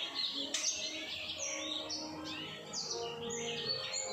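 Songbirds chirp and tweet outdoors on a sunny afternoon, a steady overlapping chorus of short high calls and trills at moderate distance, with no talking.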